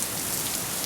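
Heavy rain pours in a dense, steady hiss, loud and close, with no other sound over it.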